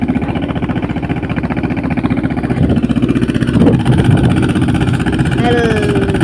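A large tractor engine runs at a steady, throbbing idle, loud and close, during groundnut loading on a farm, with people talking over it.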